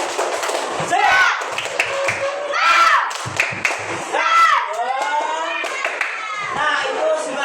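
A group, likely children, performs the rhythmic 'tepuk semangat' spirit clap, loud near claps in patterned bursts mixed with chanted voices, the sequence repeating several times in a lively call-and-clap rhythm.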